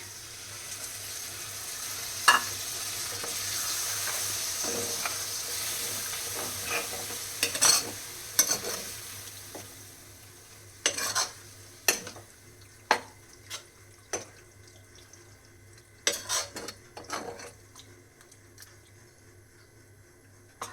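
Okra curry being stirred in a pan as yogurt is mixed in with the flame turned off, fading sizzle at first, then a series of distinct spoon scrapes and knocks against the pan at an irregular pace.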